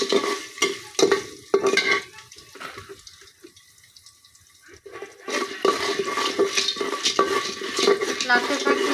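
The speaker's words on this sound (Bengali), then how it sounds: "এখন আমি এই কুচুন দিয়ে আস্তে আস্তে করে নাড়তে থাকবো" Popcorn kernels stirred slowly with a stirrer in a pot over an open village fire, giving scraping, rattling strokes in bursts, with a quieter pause in the middle before the stirring resumes.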